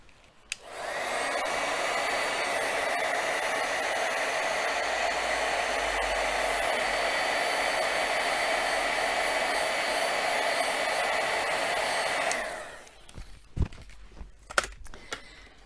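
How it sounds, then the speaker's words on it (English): A heat tool blows a steady, loud whirring roar for about twelve seconds while heat-setting acrylic craft paint on a Christmas craft piece, then cuts off, followed by a few light handling clicks. "we will just heat set that"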